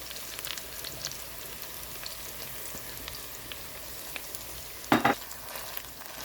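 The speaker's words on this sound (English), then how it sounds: "Let's add 2 tablespoons of tomato paste." Tomato paste frying in a pot with onion and blended carrots for jollof rice, a steady soft crackling sizzle with one brief louder clatter near the end.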